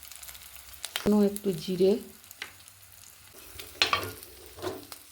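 Spices frying with chili powder in a pan, a soft sizzle with stirring scrapes under intermittent speech from a woman. Fairly close, with a louder burst of stirring partway through.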